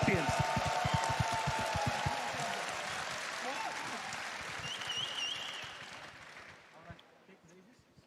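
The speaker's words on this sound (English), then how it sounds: "Can we get a massive cheer and a round of applause for Tundra Esports, your TI champions?" A big esports event crowd cheers and applauds the TI champions Tundra Esports, loud at first with rhythmic thumps and whistles, then gradually thinning out and fading toward the end.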